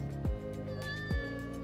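A cat at a pagoda in Sihanoukville, Cambodia, gives two short, close meows about a second apart over a busy background of steady tonal hum.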